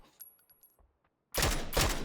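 Sudden burst of dense automatic gunfire in a PUBG tournament match, loud and sustained after a quiet stretch of faint game ambience.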